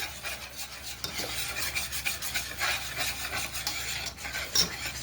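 A whisk works sauce into whipping cream in a pot, a steady scraping, rubbing swirl with a soft sizzling undertone that runs continuously at close range with no talking.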